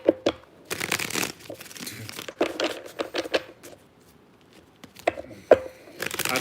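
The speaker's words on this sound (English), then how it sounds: "Okay, 2 more shuffles." Tarot cards are shuffled by hand in quick, crisp bursts of riffling and flicking, close and fairly quiet, with short pauses between shuffles.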